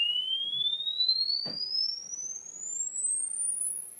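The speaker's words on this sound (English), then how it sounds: "You can hear it dipping, but it goes high for a woofer." Sine-wave test tone sweeping smoothly upward in pitch, played through a bare DIY woofer not mounted in a cabinet, steady and fairly faint with a soft thump partway through.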